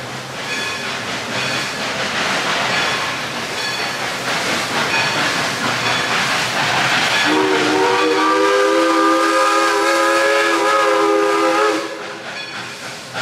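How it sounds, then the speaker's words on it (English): The Dollywood Express steam train chugs and hisses nearby at a theme park, then a loud, sustained multi-tone steam whistle blows for several seconds before cutting off. "There's also a train."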